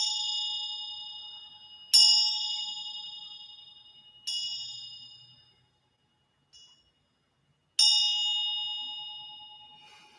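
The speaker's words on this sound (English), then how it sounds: "I'm going to ring the bell." A bell being rung during a spiritual manifestation session, four clear metallic dings spaced a couple of seconds apart, each ringing out and decaying slowly into silence, close and alone.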